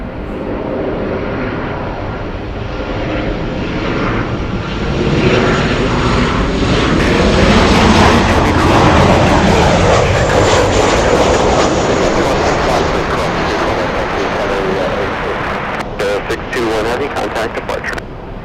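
An airliner landing on runway 24 right at Los Angeles International Airport makes a loud, close jet roar that swells to a peak midway and then eases slightly, with voices mixed in.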